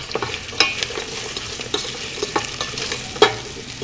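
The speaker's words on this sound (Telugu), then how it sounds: "మూత తీసి కలుపుకోవాలండి." Cashew khichdi is stirred in a pot after the lid comes off, a close, soft sizzle broken by several distinct scrapes and clinks of a spoon against the pot, irregularly spaced, with no talking.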